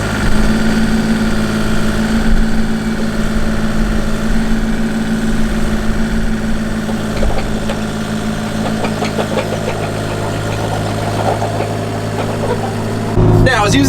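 An excavator engine idles close by with a steady, heavy low rumble and mechanical knocking throughout, a voice speaking over it and a brief louder clunk at the very end.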